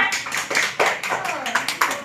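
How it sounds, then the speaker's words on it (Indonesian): Fourth-grade elementary classmates applaud in a classroom, a burst of scattered hand claps from several children, with voices talking over the clapping. "Tepuk tangan dulu gak temannya?"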